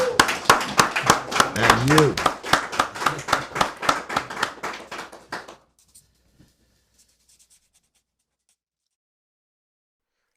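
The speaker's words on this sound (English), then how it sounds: "Can we get a round of applause for Ray Dalio?" Audience clapping for Ray Dalio, rhythmic hand claps rising in pace for several seconds with a voice speaking over them, then stopping abruptly and leaving near silence with a few faint taps.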